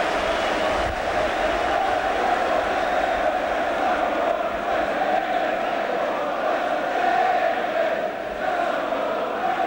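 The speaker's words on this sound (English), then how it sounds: "the Swindon crowd are singing there's only one Fraser Digby" Swindon Town football supporters singing at a Third Division play-off final replay against Gillingham, a dense, steady stadium roar of massed voices carrying on unbroken throughout.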